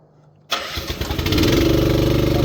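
A manlift engine, choked after a night of heavy rain, cranks abruptly from silence and catches, settling quickly into a loud, steady, rhythmic idle close by, with no voices.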